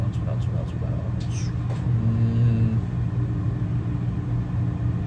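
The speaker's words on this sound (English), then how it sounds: "That is a loud car." A loud car roars past nearby, its engine rumble swelling and fading over a steady road noise.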